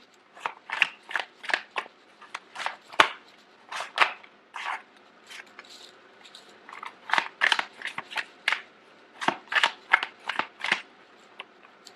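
Tarot cards shuffled by hand in a reading, quick riffling bursts repeating in an uneven rhythm, close and crisp over near silence.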